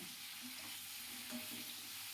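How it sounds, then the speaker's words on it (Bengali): A soft, steady sizzle of pumpkin frying in a pan, with faint stirring scrapes and no voices. "কুমড়োটা প্রায় ভাজা হয়ে এসছে।"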